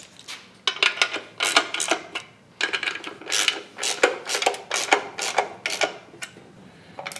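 A ratcheting wrench clicks in quick repeated bursts, pausing between strokes, as bolts are tightened on the valley pan of a Pontiac 455 engine; close and fairly loud.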